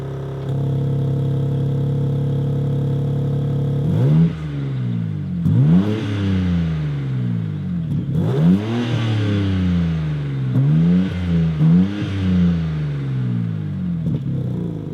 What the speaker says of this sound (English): So let's do a startup noise